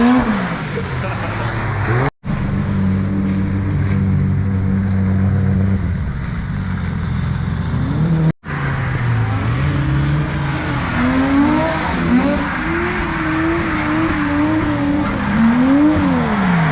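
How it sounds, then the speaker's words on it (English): Race car engines roaring past on the wet Ebisu circuit, revs rising and falling with gear shifts, loud and near, with tires squealing at moments. "the car sounds incredible too"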